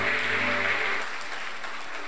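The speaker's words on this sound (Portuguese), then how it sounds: "pelo amor de Jesus, aplaude e glorifica ao Senhor." A church congregation claps together, a dense burst of applause that fades within about a second into a quieter wash.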